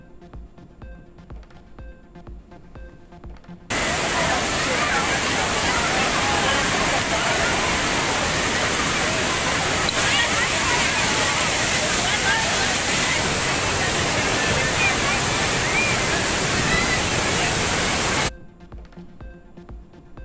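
The waterfall at Kodiveri dam near Gobichettipalayam, Erode, where tourists bathe, roars as a dense, steady rush of water for most of the clip, beginning and ending abruptly.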